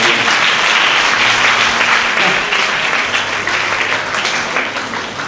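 A comedy show audience gives dense, steady applause, loud and close, tapering slightly at the end.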